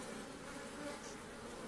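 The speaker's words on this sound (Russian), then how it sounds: "Это пчелы с Воронежской губернии." Honeybees from a hive of Voronezh-origin bees drone in a steady, dense buzz close by, a continuous hum without breaks and with no talk over it.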